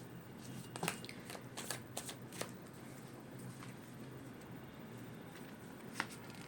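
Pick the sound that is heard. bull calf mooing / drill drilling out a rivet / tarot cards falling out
tarot cards falling out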